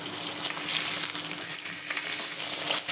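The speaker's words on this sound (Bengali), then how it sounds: "তেলে মাছটা দিয়েছি, এখন ভাজা হচ্ছে।" Fish frying in hot oil, a loud, constant crackling sizzle with small pops and bursts scattered throughout.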